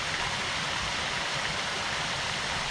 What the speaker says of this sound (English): And this is the small waterfall